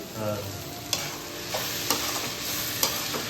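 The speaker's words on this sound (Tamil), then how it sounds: "இப்ப வெங்காயம் தக்காளி வதக்கியாச்சு" Onion and tomato sauté in a pan in a home kitchen, giving a steady close sizzle. A spoon scrapes and taps the pan at regular intervals about once a second.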